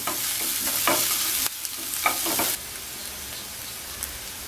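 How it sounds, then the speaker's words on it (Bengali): Cashew nuts frying with onions in hot oil give a loud, dense sizzle with occasional stirring knocks, dropping to a softer crackle partway through. "কাজু বাদামগুলো এবার পেঁয়াজের সাথে তিরিশ সেকেন্ডের মতো ভেজে নেব"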